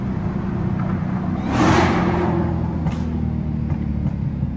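A Dodge Hellcat engine rumbles steadily from inside the car, swelling in a short roar around the middle as it downshifts, then settling back to a low, continuous drone with no talk.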